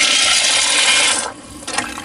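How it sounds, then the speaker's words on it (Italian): Pasta dropped into a pot of boiling water in a home kitchen, a loud sustained rushing hiss of bubbling water that briefly drops off before the bubbling picks up again. "L'acqua bolle e vado a calare la pasta."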